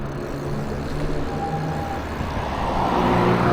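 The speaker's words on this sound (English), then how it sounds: "Look at that car, it scared me." A car drives past on a suburban street during a bike commute, a loud, steady engine roar that swells toward the end as it comes near.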